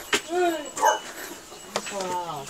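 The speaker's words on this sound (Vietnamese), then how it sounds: "nhiều chó thế." Several dogs at a rural farmstead in Cao Bằng, Vietnam, yelping and whimpering in short bursts, fairly close, with people's voices mixed in.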